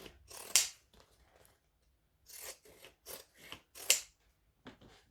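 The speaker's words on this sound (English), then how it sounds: "So I'm going to just chop off some of this." Zigzag scissors snip away excess fabric along a curved seam of a sewing project, a run of several close, crisp cutting bursts with short pauses between, no talking over them.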